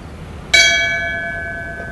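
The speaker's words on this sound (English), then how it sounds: "Would you please ring the bell in tribute and in memory for all deceased personnel who serve the New Lenox Police Department?" A memorial bell for deceased New Lenox Police Department personnel is struck once at a ceremony and rings out clearly, its bright tone decaying slowly over the quiet room.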